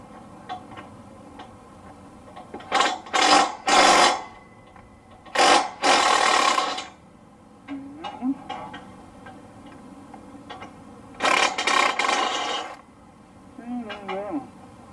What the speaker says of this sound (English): Now we can put our socket back on and spin these off.